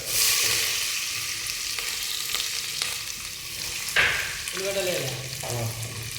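Onions and green chillies frying for a boti (tripe) curry: a steady loud sizzle throughout, with a few stirring scrapes and a brief spoon clatter near the end.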